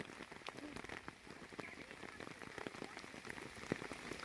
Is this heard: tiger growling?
no